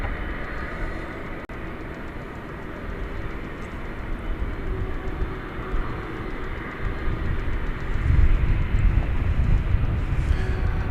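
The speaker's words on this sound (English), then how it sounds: "American Airlines Flight 833 to Monterey has been cleared for takeoff" American Airlines flight 833 taking off from runway 18 left at DFW airport at night, a steady broad jet engine roar that swells louder toward the end, with no talk.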